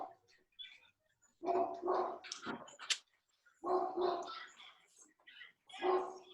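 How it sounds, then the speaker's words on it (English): A dog barks close by in repeated, uneven bursts of sharp, voiced barks separated by brief pauses. "with deference to the barking dog"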